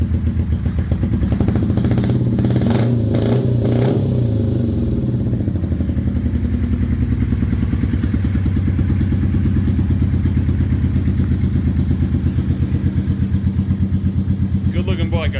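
A 1982 Yamaha Seca 400 motorcycle engine runs steadily close by, its rapid mechanical pulsing briefly rising with rougher clattery revs early on before settling into an even idle.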